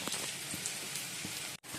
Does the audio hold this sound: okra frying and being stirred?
no